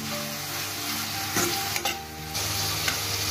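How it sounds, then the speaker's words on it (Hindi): Chopped tomatoes and capsicum sizzle in a pan with cooked onion, a steady frying hiss broken by brief scraping stirs of a spoon. "अब इसमें हम डालेंगे कटे हुए टमाटर कैप्सिकम इनको भी थोड़ा सा कुक कर लेंगे"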